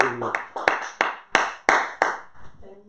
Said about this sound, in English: Let us give him a hand clap of praise this morning.